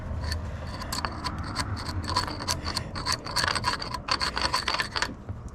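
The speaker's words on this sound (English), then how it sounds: "Now I'm going to go over this with a brush on an angle grinder." A wire brush on an angle grinder scrapes old paint off a radial drill press, giving a busy, gritty stream of scratching with rapid rasping bursts, close and steady with no talk.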